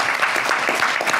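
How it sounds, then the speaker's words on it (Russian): Audience clapping during a televised school quiz game between teams, a steady dense patter of many hands for just over a second, fairly loud and close. "Даже Анна аплодирует вам"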